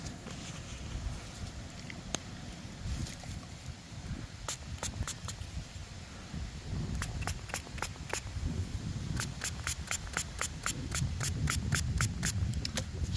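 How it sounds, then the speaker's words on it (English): Quick bursts of a spray bottle squirting water onto a coin, fired in short clusters of several pumps, close by over a low background rumble. "I'm gonna set this down and spray it off just a little bit."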